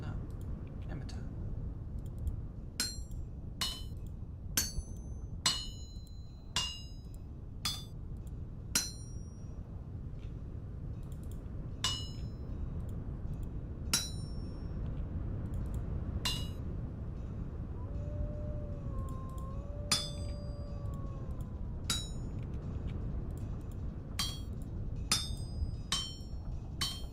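Sharp metallic hammer strikes forging a first iron tool in Vintage Story, irregular clanging blows spaced a second or two apart over a low steady background, with brief tonal game sounds in the middle.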